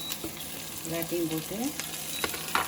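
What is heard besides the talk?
onion, green chili and curry leaves frying in pan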